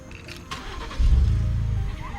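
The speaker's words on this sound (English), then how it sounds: "Actually, there is really one cool thing about the Expedition. I can do remote start." A Ford Expedition SUV engine, started by remote start, cranks and catches at about one second, settling into a steady low idle rumble after a few faint clicks and rustles.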